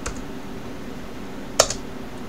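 A few keystrokes on a computer keyboard, typed while entering a terminal command, come as one sharp click with a softer tap just after, close and fairly quiet against a faint background hum.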